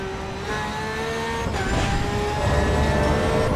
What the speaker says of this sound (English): A very fast GT3 apparently.